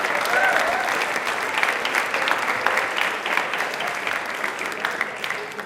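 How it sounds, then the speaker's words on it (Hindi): Studio audience on a Rajasthani quiz show breaks into loud, dense applause right from the start, a steady roar of clapping that tapers slightly toward the end. "इनके लिए आप सब ताली बजा दीजिए एक बार जोरदार वाली"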